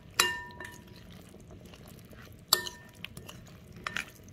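Peas are stirred into a pan with a utensil, bringing a few sharp metallic clinks against the pan amid quiet scraping and a faint simmer.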